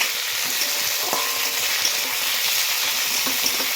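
Thinly sliced potatoes sizzling in oil in a pan, with a steady hiss and a few soft scrapes and clinks as a utensil stirs them, close up and with no talking.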